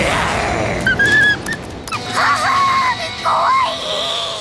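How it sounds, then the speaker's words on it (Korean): Dogs whine and yelp over a loud, dramatic background in the anime Spy x Family, the high cries rising and falling in a few short bursts. "당황한 키스는 요르와 아냐를 공격하라고 개들에게 명령하는데"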